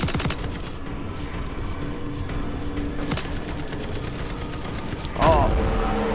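Heavy gunfire from a big gun in the horror game Schizophrenia Nextbot, with repeated sharp shots and bursts over a steady rumbling background, ending in a louder blast with mechanical whines.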